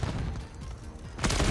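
A grenade detonates in a first-person shooter during an attack on a bomb site, a loud, close burst near the end that follows a stretch of rumbling gunfire and game noise.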